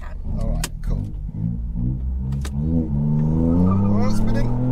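A Revo stage 2 Ford Fiesta ST launches with wheelspin, its engine note climbing steadily through revs with tyre noise, close and loud, while people talk over it.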